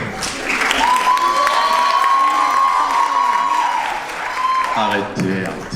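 A comedy festival audience applauds and cheers for a comedian. Dense, loud clapping is mixed with whoops and shouts, and a sustained vocal cheer runs through the middle. The sound swells at the start and tapers off near the end.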